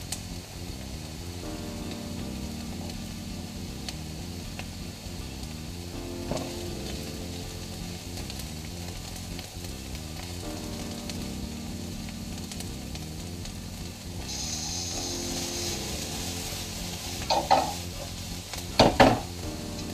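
Diced capsicum sizzles steadily in a frying pan for a Moroccan-spiced ratatouille, with continuous frying hiss and a few louder scrapes and clinks of stirring near the end, no talking.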